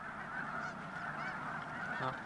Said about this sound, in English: Mixed in with the snow geese are the smaller Ross's geese and the dark-bodied blue goose, which is a morph of the snow goose.